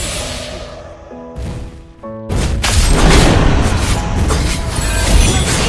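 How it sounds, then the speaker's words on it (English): A turret is destroyed in Mobile Legends: a few short tonal chimes, then a sudden loud boom that rolls into a sustained, dense crash lasting to the end. "Your team destroyed a turret."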